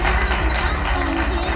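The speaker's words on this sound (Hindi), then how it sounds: "कविता खत्म होने पर तालियां बजाकर छात्र की हौसला अफजाई करते" People seated at a public gathering on a Madhya Pradesh government development yatra in Seoni clap for a school student who has just recited a poem. The applause is a loud, close, dense burst that runs steadily through the moment.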